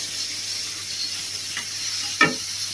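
Steady close hiss of food grilling on a hot surface, with a couple of soft clinks from cooking utensils near the end.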